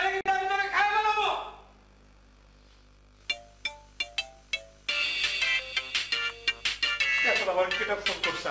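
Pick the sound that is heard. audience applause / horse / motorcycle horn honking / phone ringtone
phone ringtone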